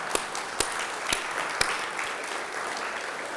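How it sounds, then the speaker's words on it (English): Quiet audience applause at an annual community meeting and campaign kickoff, with a soft wash of clapping and a few sharper individual claps standing out in the first half. "who deserves a round of applause."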